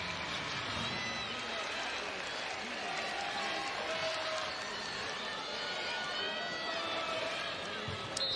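A crowd at a girls' state-final high school basketball game roars steadily throughout, dense and distant, with a commentator's voice running over it.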